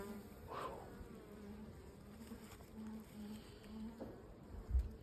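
Honey bees buzzing around an open hive during a fall inspection, a faint steady hum with individual bees droning close past, quiet and continuous with a small thump near the end.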